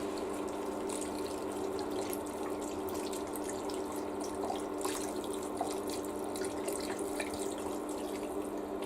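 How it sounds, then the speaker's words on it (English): Seafood stock pouring into a cooking pot, a steady liquid rush with light splashing that runs evenly throughout, moderately quiet and without talk. "So, now we're going to take our fish stock, pour that in."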